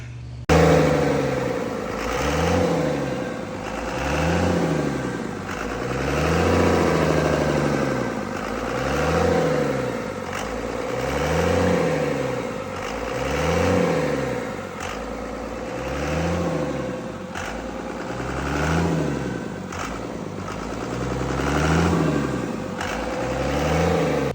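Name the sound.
truck engine running after cam break-in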